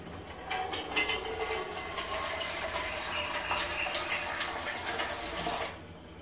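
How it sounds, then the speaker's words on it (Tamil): Water pours steadily into a cooking pan for about six seconds while a Tamil dish of brinjal kosmalli is being made, a loud continuous splashing gush that stops abruptly near the end. "இப்போ இதில் தேவையான அளவு தண்ணி சேர்த்துடலாம்."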